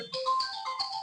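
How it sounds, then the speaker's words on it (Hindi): A phone ringtone plays alone for about a second, a bright melodic electronic tune with sustained tonal notes, moderately loud and close. "फोन आ रहा शायद"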